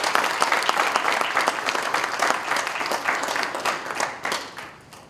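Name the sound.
conference audience applause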